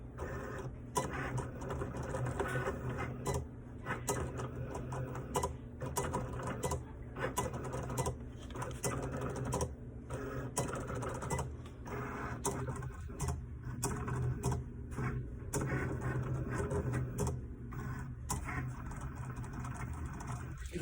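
A Cricut cutting machine slices heat transfer material in normal rather than fast mode, its carriage ticking and whirring in short busy bursts with brief pauses, close up and continuous over twenty seconds.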